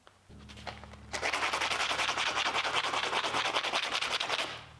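A low motor hum starts, then a loud harsh grinding whine of an angle grinder's flap disc on steel runs steadily, close by, before easing off.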